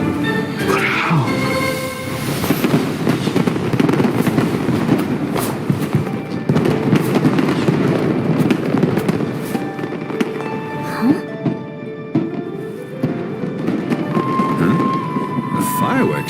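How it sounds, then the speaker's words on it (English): A fireworks show in Genshin Impact booms and crackles in repeated bursts with rumbling tails over about sixteen seconds, with scattered sparkling pops and a voice talking intermittently over the display. "Fireworks show?"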